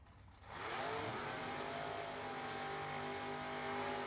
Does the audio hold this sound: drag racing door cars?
yes